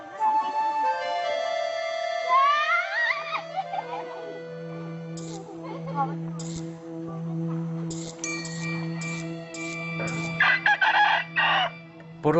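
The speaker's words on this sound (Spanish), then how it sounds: "Por la mañana temprano nos despertamos como en medio mundo por los gallos" Several roosters crow in long, drawn-out calls at morning in an Iban village in Borneo, overlapping near and farther away, with a steady hum beneath and some clucking and clinking toward the end.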